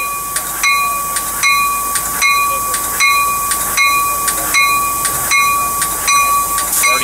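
Amtrak train 595 departing Carlsbad Village station, heard as a steady loud hiss with a sustained high tone and repeated evenly spaced clicks or bell-like pulses roughly every 0.6 seconds, persisting throughout.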